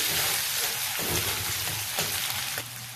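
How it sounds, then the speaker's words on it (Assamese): Chopped onion fries in a pan over a medium gas flame for a jackfruit curry. A loud, steady sizzle and crackle fills the whole stretch. "পিঁয়াজ এটা কাটি লৈছিলোঁ, সেইখিনি মই ৰঙচুৱাকৈ ভাজি ল'ম"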